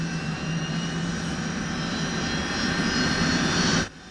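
Aircraft engines roar at liftoff in a film, a loud, steady, dense drone that holds throughout and swells slightly before cutting off abruptly at the end.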